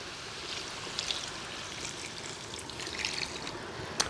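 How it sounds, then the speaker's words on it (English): Water pours steadily into a pot of braising curry goat, a continuous close trickle and splash with a few brighter splashes, and no talking. "We need to add water for it to cook."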